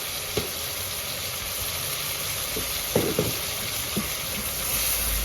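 Cumin seeds going into a hot pan of oil for an aloo gobi, giving a steady loud sizzle with a few scattered pops and taps of the spoon over the continuous hiss.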